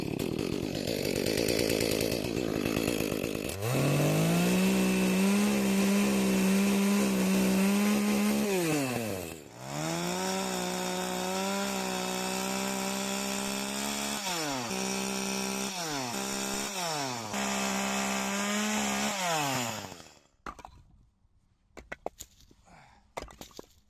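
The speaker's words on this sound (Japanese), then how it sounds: "久々にね、チェーンソーを引っ張り出してきました。" A chainsaw cuts through thin lengths of firewood, loud and close, the engine revving and dipping under load for about twenty seconds before cutting out to quiet clattering.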